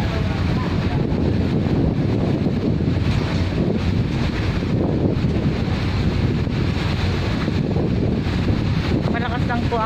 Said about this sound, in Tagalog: Malakas lang po ang hangin. Pero yung alon, ayos.